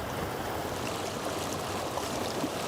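Johnson Creek, flooded after heavy storms, rushes past an apartment complex northeast of Milwaukee with a dense, steady roar of churning water, constant and fairly close, with no voices.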